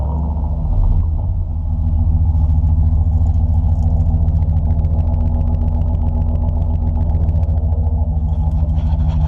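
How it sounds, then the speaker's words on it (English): A Chevy Silverado pickup with an aftermarket exhaust idles after a cold start, a loud, close, steady deep rumble with a fast low pulsing throb that holds throughout. "we'll do a start up right here, cold start, and let you hear it"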